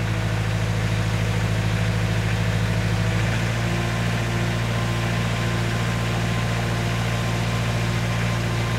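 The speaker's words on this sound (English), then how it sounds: "Revving up the old Kubota." A new Kubota tractor engine revs loudly and steadily at close range while powering a forestry winch, a constant deep drone holding throughout with a slight shift partway through.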